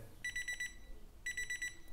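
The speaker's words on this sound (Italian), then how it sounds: "Ragazzi ho impostato la sveglia e questo è il rumore che emette." A BILIN digital alarm clock with wireless charging sounds its alarm: two bursts of rapid, high electronic beeps, about five beeps each, separated by a brief pause, clear and close.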